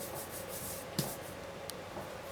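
A metal trimming tool scrapes a clay pot turning on a potter's wheel, making a soft continuous rubbing hiss with a low steady hum and a couple of faint clicks.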